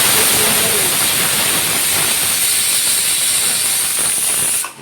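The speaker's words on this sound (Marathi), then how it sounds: "एक शिटी झाली, अजून 4 काढते." A pressure cooker boiling jackfruit seeds lets out one long, loud, steady steam whistle that continues for several seconds and then drops away abruptly.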